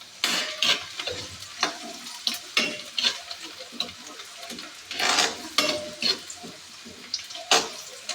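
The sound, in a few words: frying onion with ginger in pan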